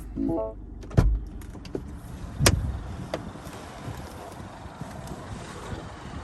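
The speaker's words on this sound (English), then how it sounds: "foot on the brake, the car does start up" A Mini Cooper Countryman S ALL4 starts up close by: a brief mechanical thump, a short cranking burst, then a steady low engine rumble settling in.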